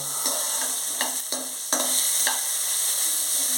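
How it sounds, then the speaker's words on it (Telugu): Onion, green chilli and tomato stir-fried in a pan for millet upma, a steady sizzle broken by a handful of sharp spoon knocks and scrapes against the pan, close and alone. "తర్వాత ఆనియన్ అల్లం ముక్కలను కూడా దీంట్లో కలిపేస్తానండి"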